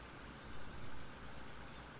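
Tractor engine in Farming Simulator 17 straining up a steep hill, a steady low drone with a broad noisy hiss that swells briefly and then settles, heard alone.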